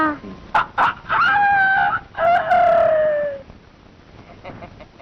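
A voice imitates a rooster crowing, a couple of short clucks and then two long drawn-out crows, close and fairly loud.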